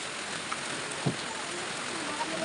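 Rain falls steadily outdoors as a dense, even hiss, with a brief voice surfacing faintly once under the downpour.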